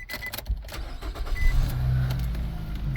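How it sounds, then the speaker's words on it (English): A Nissan Rogue engine cranks and catches, then settles into a steady low idle hum inside the vehicle, with faint clicks and interior rustle early on. "Okay, so start the engine."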